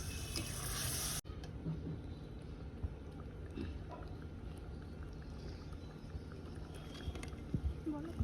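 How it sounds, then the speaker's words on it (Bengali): Spice paste cooks with a splash of water in a pan for a curry with kharkol stalks and prawns, a loud burst at the start giving way to a softer bubbling sizzle and occasional stirring clinks. "মশলাটা কষানো হচ্ছে একটু জল দিয়ে দিলাম"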